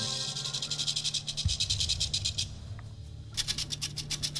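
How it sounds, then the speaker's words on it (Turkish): A real rattlesnake rattling, heard up close as a loud dry buzzing rattle in rapid pulsing bursts, pausing briefly before surging again. "Filmlerde çıngıraklı yılan sesi için gerçek yılanlar kullanıyorlar."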